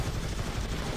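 Machine gun fire from a machine gunner robot in the video game Gladiabots, a dense, continuous rattle of rapid shots for a brief moment.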